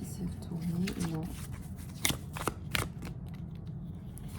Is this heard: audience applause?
no